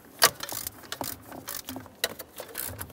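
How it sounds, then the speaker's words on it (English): A hand ratchet snugs a 7mm-headed bolt on the driver's side of a 2001-2005 Ford Explorer Sport Trac, giving a series of quick, close, fairly quiet clicks in irregular bursts. "snug up your 7mm headed bolt on the driver's side"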